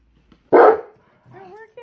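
A malamute gives one loud, close bark aimed at construction workers on a neighboring house, followed after a short pause by softer whining, vocal dog sounds.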